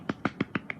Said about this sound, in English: Clapping for myself.